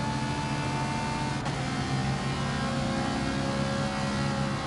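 A race car engine accelerates in Gran Turismo 7, a continuous loud whine heard close and alone, with one brief click partway through.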